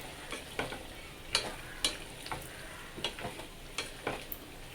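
Fried eggs and large prawns cook in a spiced curry in a pan, a quiet close sizzle broken by sharp clicks and scrapes of stirring at an uneven pace.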